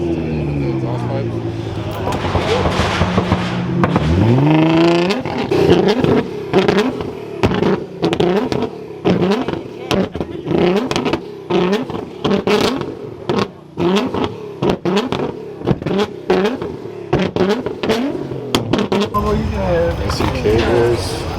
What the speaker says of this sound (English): Probably has to keep revving so it gets the gas to the exhaust pipe.